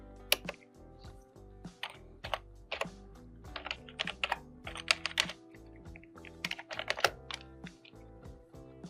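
Program code being typed on a computer keyboard: a steady run of quick, close key clicks in bursts with brief pauses, alone without talk.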